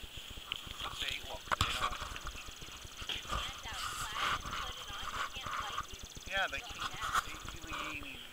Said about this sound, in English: Feeding the horses at the Davisville flea market.